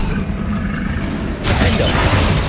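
Spell blasts from the Hogwarts Legacy video game, Bombarda and Confringo, a loud rumbling burst that swells into a bright crackling, shattering explosion in the second half, sustained and dense, with no talking.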